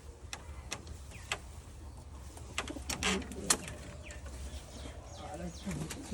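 Nepali yellow-eyed pigeons coo in soft, repeated low calls, mixed with sharp ticking clicks and light background rustle nearby.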